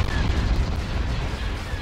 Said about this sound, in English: Direct fire with their laser cannons.